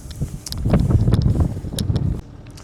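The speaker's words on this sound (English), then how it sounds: "I've just put the wind thing on because it's a bit windy." Wind gusts buffet the microphone outdoors on a farm, coming as uneven rumbling bursts that swell and fade over a few seconds.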